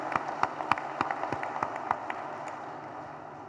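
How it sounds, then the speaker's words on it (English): Audience applause at the grand opening of Safran factories in Hyderabad, India: a handful of sharp, distinct claps in a loose rhythm, thinning out and fading after a couple of seconds. "I think they deserve a huge round of applause for that."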